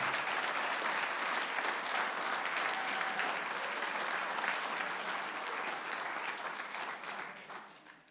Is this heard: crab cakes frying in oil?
no